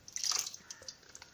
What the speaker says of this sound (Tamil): அதை அடுப்பில் வச்சு இந்த குக்கரில் இருந்த தண்ணியை வந்து ஊற்றிக்கலாங்க